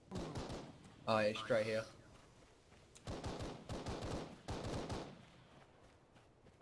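Gunfire in the Arma 3 Breaking Point mod, several bursts of rapid shots in quick succession, loud and close, between stretches of players talking over voice chat.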